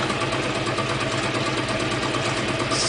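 A small hydroelectric generator turbine spins steadily with a continuous, engine-like droning hum and a fast rhythmic pulse, loud and close with no talk.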